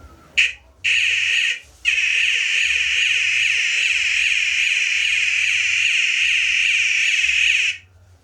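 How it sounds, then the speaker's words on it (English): A loud, high-pitched electronic buzzer sounds in a short blip, a brief burst, then one long continuous tone that cuts off abruptly. "So this is the very interesting buzzer."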